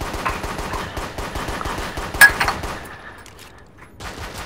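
GSA 13 pistol fired in a video game, a fast, evenly spaced stream of crisp, close shots that stops after about three seconds, then goes quiet before faint game sound resumes.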